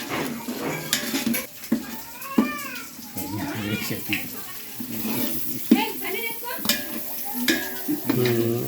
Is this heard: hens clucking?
no